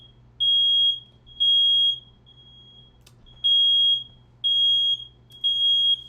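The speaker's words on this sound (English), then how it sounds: "Oh, that's the fire alarm." An indoor smoke detector sounds its fire alarm, a loud piercing beep repeating about five times in evenly spaced half-second pulses over a low steady hum, with no one speaking.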